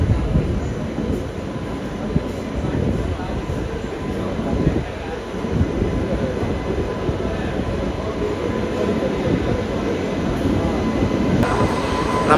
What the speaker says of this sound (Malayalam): നമ്മളിവിടെ പിടിച്ചിടാൻ കാരണമായ വേണാട് കേട്ട് കയറി വരുന്നു.